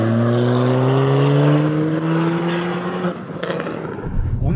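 A Ford Fiesta ST four-cylinder engine with Revo tune and intake and a straight-through Miltec exhaust and downpipe revs hard with a raspy note, pitch climbing steadily, then drops off with pops and crackles.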